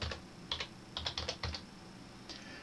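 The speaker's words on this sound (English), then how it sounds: "in search settings there type passwords" Keys on a computer keyboard tapped in short clustered bursts, a few quick strokes at a time with brief pauses, fairly quiet and close, no voices.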